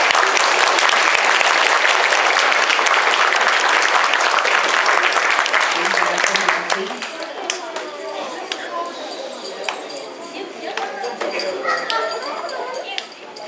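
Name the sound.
audience applause for students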